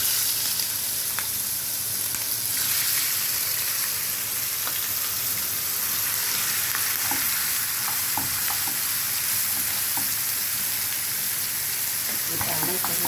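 Meat sizzles steadily in a hot pan, a loud continuous frying hiss with occasional scrapes and stirring clicks throughout.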